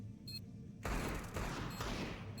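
A burst of gunfire erupts partway through a round of a competitive shooter game, a dense rapid volley of sharp shots that sustains at steady loudness after a quieter opening.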